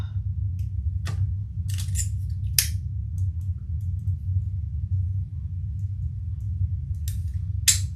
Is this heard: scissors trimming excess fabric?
yes